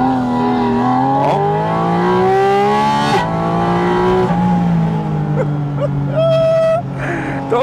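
A Porsche 718 Spyder RS engine revs high and climbs in pitch through the upper range, loud and close, with repeated rising sweeps and a brief drop before winding up again.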